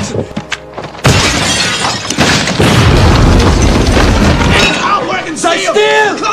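A grenade explosion in a WWII battle scene of Allied and American troops against Nazis in Europe, a sudden loud boom with shattering debris that roars on for several seconds before cutting off to quieter sounds.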